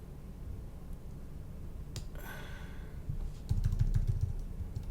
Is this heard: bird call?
no